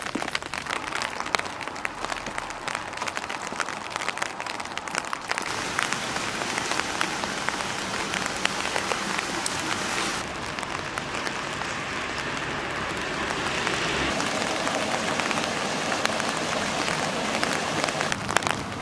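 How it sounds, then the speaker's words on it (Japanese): Steady rain falls during a trip to Itō Onsen on the Izu Peninsula, Japan, making a continuous dense hiss of drops on surfaces for the whole stretch, with no talking. "なんでまた雨降んの、それにしても何連続旅行中雨だよこれ。"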